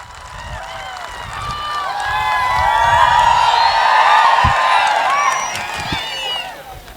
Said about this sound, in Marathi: एकदा जोरात टाळ्या वाजवा सगळ्यांनी